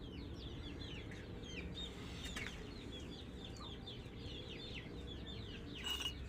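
Hens cluck and chirp softly at a distance in a coop over a steady background hum, with repeated short calls throughout and no talk.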